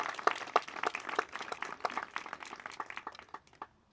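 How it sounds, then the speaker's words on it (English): A crowd at a civic election forum claps for volunteers, a loose, moderately close patter of individual hand claps that thins out toward the end. "how about we round of applause for our volunteers"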